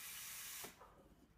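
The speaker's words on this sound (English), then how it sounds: "Once you put the steam wand back down, it will start to self-clean, so just be careful of the steam that comes out." Steam wand on an Oracle coffee machine self-cleaning after being lowered, a loud steady hiss of venting steam that cuts off abruptly, followed by faint clicks and gurgles.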